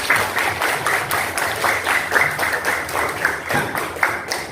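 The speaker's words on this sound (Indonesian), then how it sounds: "tepuk tangan untuk ya" Steady applause from a group, many hands clapping together at an even, sustained level for several seconds.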